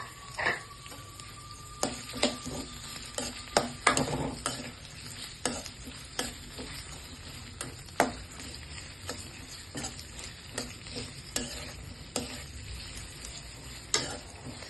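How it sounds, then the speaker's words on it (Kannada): Dried red chillies, garlic and onion frying in a little hot oil, a steady soft sizzle broken by repeated sharp clicks and scrapes of a spoon stirring in the pan. "ಒಣಮೆಣಸಿನ್ಕಾಯಿ, ಬೆಳ್ಳುಳ್ಳಿ, ಈರುಳ್ಳಿ ಹಾಕ್ಕೊಂಡು ಫಸ್ಟು ಫ್ರೈ ಮಾಡೋಣ"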